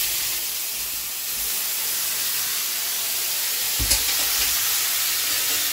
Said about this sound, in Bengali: এবার আলুটা একটু ভেজে দেবো।